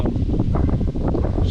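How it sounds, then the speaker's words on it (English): Steady low, blustery wind rumble buffeting the microphone, continuous and fairly loud throughout with no voices. "It's kind of windy out here today."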